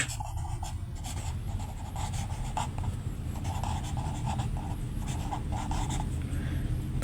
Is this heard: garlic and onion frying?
no